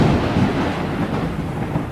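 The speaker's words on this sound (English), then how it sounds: "The rain start fall" Heavy rain beginning to fall, a loud, dense, continuous rush with a deep rumbling undertone, steady throughout with no voices.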